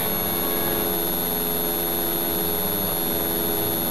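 Steady loud drone of an aircraft engine in the video game GTA San Andreas, a continuous roaring whine with a high tonal hum, heard alone without talk.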